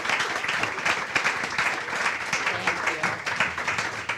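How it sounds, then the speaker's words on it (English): An audience at a policy event on raising high school graduation rates applauds panelists and speakers, dense sustained clapping throughout with a faint murmur of voices underneath. "another round of applause for our panelists and speakers"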